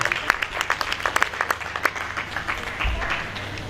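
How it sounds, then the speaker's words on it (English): An audience claps in sustained applause at an investiture ceremony, many hands patting unevenly at moderate volume, the clapping gradually thinning toward the end. "Please help me clap very well"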